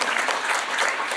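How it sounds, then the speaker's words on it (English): Audience applause at a national symposium on health, justice and ageing: a short, steady burst of many hands clapping from a seated crowd, dense and even throughout. "Do you want to give her a clap, please?"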